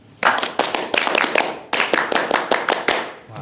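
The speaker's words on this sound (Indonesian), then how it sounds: "Tepuk pramuka 1 kali." An audience at a Muslim scout jamboree performs the rhythmic Indonesian scout clap, tepuk pramuka, loud, sharp claps in unison, fast patterned bursts that stop briefly and then repeat in a tight sequence.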